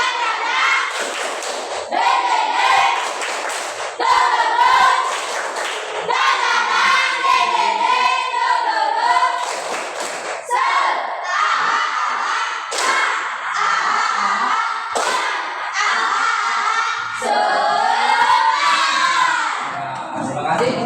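Classroom of children standing and performing a spirited clapping chant, loud shouted voices in unison punctuated by sharp claps and thumps in bursts, with a teacher's voice between.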